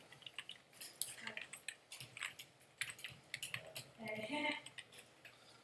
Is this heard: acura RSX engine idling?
no